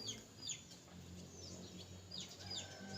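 Wild junglefowl calling nearby in forest beside a young decoy rooster, with a few short high chirps and clucks, faint to moderate, over steady low outdoor background noise.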